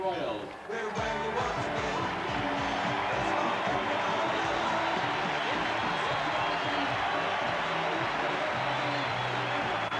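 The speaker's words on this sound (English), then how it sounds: "The Royals take the field. Their fans cheering them." Royals fans at a 1980 World Series game roar as the American League champion Royals take the field, a broad steady stadium crowd din held throughout under a broadcaster talking over it.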